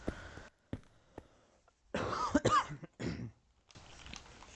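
Several coughs and throat-clearing bursts close to the microphone, separated by short silences, with a harsh, rough cluster in the middle.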